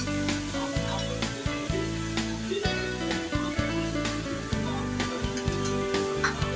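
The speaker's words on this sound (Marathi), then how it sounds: "हे छान परतवूया." Rava appe mixture sautés in a hot pan, a steady close sizzle with soft stirring scrapes over a few seconds and no talk.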